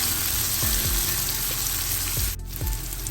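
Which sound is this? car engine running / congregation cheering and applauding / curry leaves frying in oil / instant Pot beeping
curry leaves frying in oil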